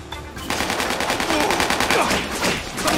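Rapid gunfire from the video game Spider-Man: Shattered Dimensions, a dense, loud burst of repeated shots rattling steadily for about two and a half seconds after a brief quiet start, with no talking over it.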